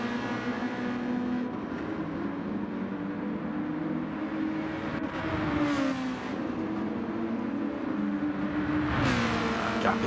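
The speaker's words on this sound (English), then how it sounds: "able to sling this little Red Bull Junior into these corners quicker and accelerate out of them quicker" Small radio-controlled Red Bull Junior race cars whine steadily through corners and accelerate out of them at a racing round, a continuous high electric buzz at moderate distance.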